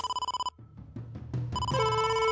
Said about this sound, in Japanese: 伊達、突然ですまないが、レムニスから電話だ。